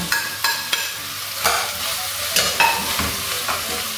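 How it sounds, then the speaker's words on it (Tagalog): Onion sautéing in a pan for ginisang monggo with chicken, a continuous sizzle broken by several sharp spatula scrapes and clinks against the pan, close and with no talk. "Sautein natin siya ng 5 minutes."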